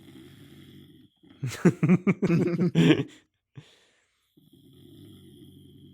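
A person snoring near the microphone in a quiet room, one long rasping snore with fluttering breath, then soft low breathing before and after.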